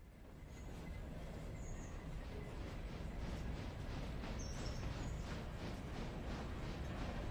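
A train arriving in the Railroader game, heard as a steady, loud low rumble and rolling clatter of railcars that runs through the whole stretch, with faint high squeals above it.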